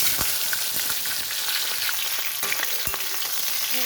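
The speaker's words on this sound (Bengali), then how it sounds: "তো প্রথমে আমি কপিগুলো ভেজে নেব।" Cauliflower pieces fry in hot white oil in a wok, giving a dense, loud, continuous sizzle with scattered pops and a few utensil knocks, close up and without talk.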